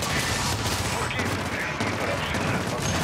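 Dense, continuous bursts of hip-fired gunfire in Call of Duty MW3 Zombies, loud and close, with rapid overlapping shots and game noise filling the whole stretch.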